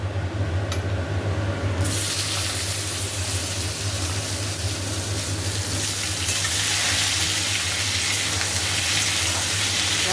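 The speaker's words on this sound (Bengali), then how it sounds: "টমেটোটা দিয়ে দিই।" Tomato goes into a pan of potatoes frying until reddish, for a vegetarian cabbage dish, and the loud close sizzle swells into a fuller, steady hiss right after.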